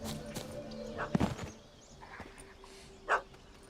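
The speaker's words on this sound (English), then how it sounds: "I bet the dog's fucking tiny." A small dog in the video game The Witcher 3: Hearts of Stone gives a few sharp yips and barks, one cluster and then a single later yap, fairly quiet against a game ambience of footsteps.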